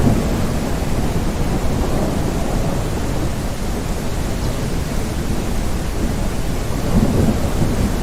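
Heavy rain pours steadily during a thunderstorm in an African wildlife video game, a dense loud wash of rainfall with low thunder rumbling underneath throughout.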